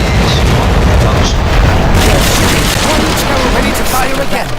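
Cannons on a sailing warship in a naval video game roar in a loud, sustained barrage, heavy booms blurring into a continuous rumble with bursts of crackle on top.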